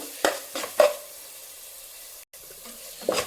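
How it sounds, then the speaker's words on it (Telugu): Ingredients frying in hot oil in a pan for baby corn fried rice give a soft, steady sizzle, punctuated by a few sharp stirring clatters near the start and end. "ఇలా బాగా ఆయిల్లో వేయించుదామండి ఇవి"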